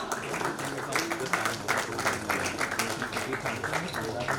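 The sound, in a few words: audience applause for a nursing college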